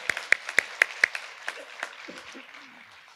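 Audience applause at an alumni awards reception, opening with several sharp, distinct claps that quickly blend into a softer, sustained round of clapping fading over about three seconds.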